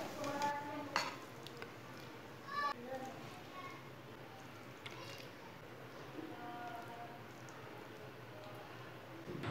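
Homemade pumpkin and egg curry being served onto a plate, with soft scrapes and light clinks of a spoon against cookware under a voice talking nearby.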